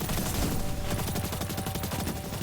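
A dense run of rapid gunshots from Destiny 2 in the Neomuna area, with sniper rifle fire among them, sounding loud and continuous throughout with no talk over it.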